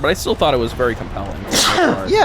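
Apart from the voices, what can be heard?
sneeze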